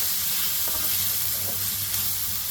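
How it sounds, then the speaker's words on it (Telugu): Mushroom curry frying in a pan, a steady close hiss and sizzle throughout with faint scraping as the mixture is stirred, no voices. "మొత్తం కలిపిస్తున్నాం ఇలాగా"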